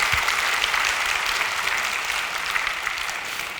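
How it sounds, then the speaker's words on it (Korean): A church congregation claps together in sustained, dense applause, steady and fairly loud throughout with no break. "하나님께 박수합시다"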